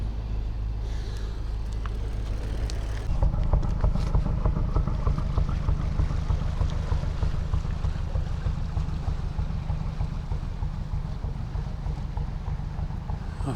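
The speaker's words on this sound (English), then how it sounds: "I'm afraid I had to video that bit because that boat sounds so good." A boat passes on a canal near a lock cottage, its engine chugging in a low, steady rhythm that grows louder after a few seconds and keeps going, mixed with wind noise on the microphone.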